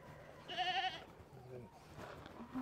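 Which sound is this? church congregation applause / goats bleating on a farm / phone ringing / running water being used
goats bleating on a farm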